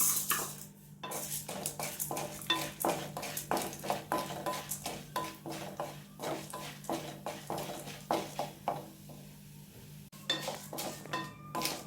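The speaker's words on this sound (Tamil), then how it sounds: "இனி நம்ம இந்த பருப்பு இதை ரெட்டையும் சேர்த்து வறுத்தரலாம்." Dal and garlic dry-roasting in a pan for coconut podi, a spoon scraping and clinking against the metal in a steady rhythm of repeated strokes, close by with no talking.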